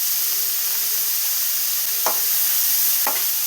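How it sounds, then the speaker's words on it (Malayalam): Sliced shallots and onions, salted, sautéing in a pan on the way to golden brown for chicken kondattam, giving a steady broadband sizzle with two soft stirring scrapes near the end. "ഇനി ഉള്ളിയെല്ലാം ഗോൾഡൻ ബ്രൗൺ കളറാവുന്ന വരെ നമുക്കൊന്ന് വഴറ്റിയെടുക്കാം"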